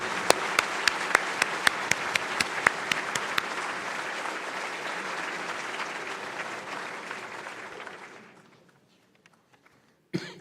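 Applause at a National Academy of Engineering induction ceremony honoring anniversary members: sustained clapping from a large audience with a few sharp individual claps on top, fading out near the end before a final brief sound.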